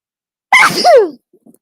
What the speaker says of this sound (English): I think I'm gonna sneeze now.